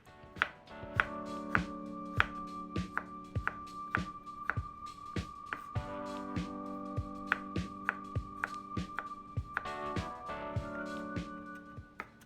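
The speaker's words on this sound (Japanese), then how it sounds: "そうすると早くみじん切りをすることができます" A knife mincing food on a cutting board, quick rhythmic chops in steady bursts, close and crisp with no talking.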